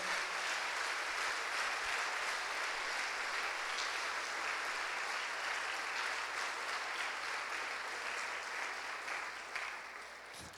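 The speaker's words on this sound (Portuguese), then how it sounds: "Você pode aplaudir ao Senhor." Church congregation applauding in praise, a dense, steady wash of clapping filling the room for about ten seconds before beginning to thin out near the end.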